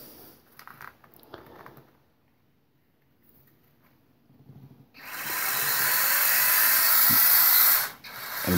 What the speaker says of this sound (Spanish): El motor suena